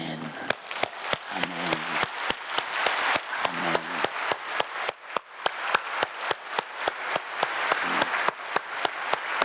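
A church congregation claps in a steady, fast rhythm of sharp, close hand claps, with voices singing or speaking faintly underneath.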